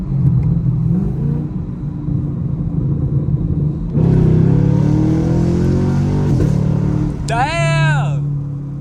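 A Chevrolet Camaro SS engine rumbles and revs loudly from inside the car during a night drive, swelling as the throttle opens, with crackling exhaust and a voice talking over the engine.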